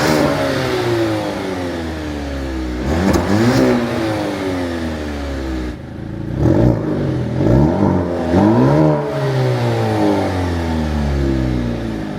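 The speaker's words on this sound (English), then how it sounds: "I want to rev the engine and I want to hear a loud exhaust." A 2026 Maserati Grecale Modena SUV engine revs loudly and repeatedly, rising and falling in pitch, with a deep, throaty exhaust rumble throughout.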